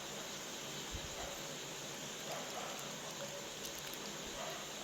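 Whole cumin seeds tempering in hot oil for a vegetarian khichuri, giving a steady, dense, crackling hiss that runs unbroken and close throughout, with no talk.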